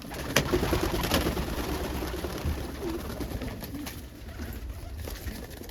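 Pigeons coo softly in a loft, including a red bar bird, with low murmuring calls under steady background noise and no talk.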